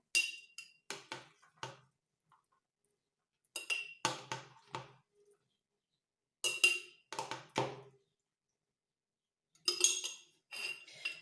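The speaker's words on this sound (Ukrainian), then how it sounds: "І тепер будемо накладати у банки. Вниз банки ми покладемо м'яско." Meat being spooned into glass jars, with sharp clinks and scrapes of a metal spoon against glass in short clustered bursts separated by silent pauses, close and clear.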